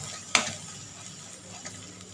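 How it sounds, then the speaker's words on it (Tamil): Chili, turmeric and coriander masala sautéed in a pan over low heat for a chicken curry, soft steady sizzle with a single sharp clink of a spoon against the pan early on. "அடுப்பை கொஞ்சம் சிம்மில் வச்சு இந்த மசாலாவை கொஞ்சம் பச்சை வாசனை போகிற அளவுக்கு வதக்கிக்கலாம்."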